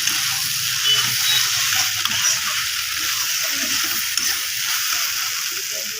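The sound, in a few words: soybean chunks being stir-fried with spices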